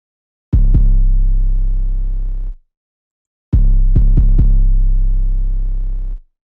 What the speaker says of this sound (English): First, let me show you the 808.